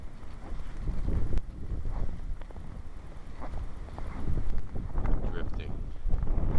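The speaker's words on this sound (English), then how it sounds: "the wind's been blowing the snow off" Wind gusts through a blizzard, blowing about a foot of fallen snow off bare ground and drifting it; a steady, rough, low rumble of moderate loudness with no talking.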